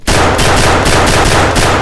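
Rapid automatic gunfire in the video game Escape from Tarkov, a loud sustained burst of closely spaced shots lasting nearly two seconds, starting abruptly, harsh and close, without talk.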